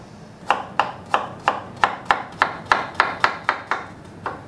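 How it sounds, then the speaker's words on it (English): Knife slicing pears into thin slices on a cutting board, about a dozen crisp, evenly spaced chopping taps close up against a quiet background. "I'm just slicing thin slices all the way down"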